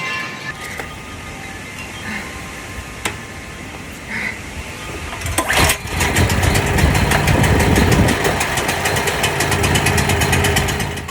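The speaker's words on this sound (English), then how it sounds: "I think I'm going to try to get out our generator and fire it up" A portable generator engine starts after a few seconds of quiet room tone, then runs steadily with a loud, close, rough mechanical drone that holds to the end.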